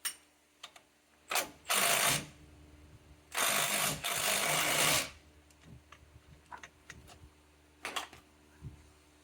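Two loud bursts from a power tool working on the size 18 caliper carrier bracket bolts of a 2007-2013 Chevy Silverado front brake, the second longer, followed by lighter clicks and tool handling.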